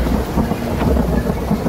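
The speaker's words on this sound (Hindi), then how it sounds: "जम्मू कश्मीर के कठुआ में तेज बारिश कहर बनकर बरस रही है।" Heavy rain pounding down in Kathua, Jammu and Kashmir, with a loud continuous wash of falling water and a low rolling rumble of thunder underneath.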